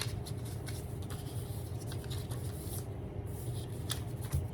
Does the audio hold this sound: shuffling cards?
yes